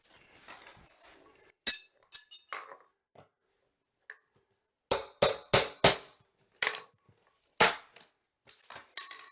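Old bathroom baseboard is broken up and pried away in a series of sharp, close cracks and clinks, some in quick clusters, with quiet gaps between.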